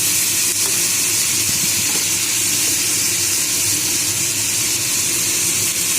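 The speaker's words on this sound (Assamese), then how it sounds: "খালি বিলাহী কাটি দিছোঁ। আগে ভাজি লওঁ" Chopped tomatoes frying in a pan with onion and five-spice seeds, a steady, close sizzling hiss that holds evenly throughout with no voices.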